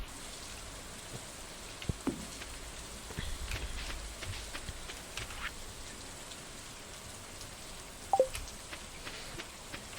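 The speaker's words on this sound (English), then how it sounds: "All this rain though, Craigasm." Rain falls steadily in the farming video game Stardew Valley, a soft, continuous patter with a few faint clicks and blips over it and no talking.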